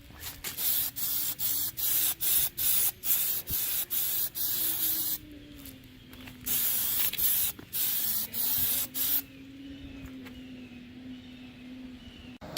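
Short repeated bursts of spray paint going on as a coat, about a dozen hisses in a steady rhythm with brief gaps, close and fairly loud over music playing in the background.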